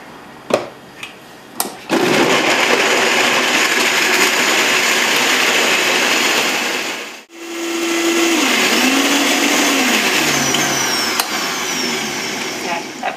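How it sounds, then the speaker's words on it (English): A blender whirs through a pad thai sauce: a few short pulses, a loud steady run that cuts out, then a second sustained run whose pitch shifts as the mixture thickens. "We're going to blend and make the most delicious pad thai sauce ever."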